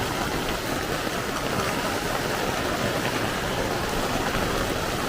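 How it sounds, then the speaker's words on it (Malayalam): Heavy rain pours down around a house, with water splashing onto the ground nearby, a dense, steady hiss that stays loud and even throughout with no voices. "ഇവിടെ വീഴുന്നുണ്ട് വെള്ളം"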